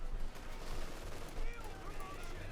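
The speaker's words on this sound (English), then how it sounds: "Grenadiers for light machine guns doing a lot of damage alongside the 2-2 here, cutting through the Yankees" Light machine gun fire in the World War II strategy game Company of Heroes 2, a faint, continuous crackle of rattling shots with some rumble, heard quietly at a distance under a voice.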